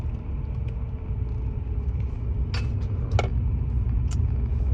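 Car driving along a road, heard from inside as a steady low rumble of engine and road noise throughout, with a few faint brief clicks and ticks over it and no talking.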